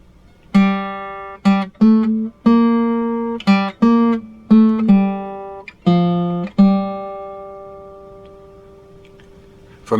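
A guitar plays a Gladiator soundtrack melody as clear single plucked notes in a short phrase, some quickly repeated, each ringing out and fading, with a long decay at the end and no voices.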